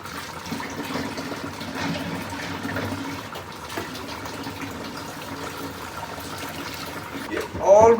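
Stock (yakhni) poured into rice in a pot for Afghani pulao, a steady wet pouring and sloshing of liquid that swells near the end, with a voice faintly present underneath.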